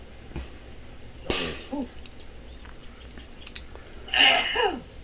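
A person sneezing twice in quick succession, a sharp burst early on and a louder one near the end, with a brief murmur between, close to the microphone in a quiet room.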